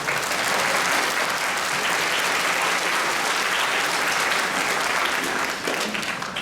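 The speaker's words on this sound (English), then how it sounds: "Round of applause, please, for yourself." Sustained, dense applause from a concert audience at the Rosemount secondary school spring music concert, loud and steady throughout with no talking over it.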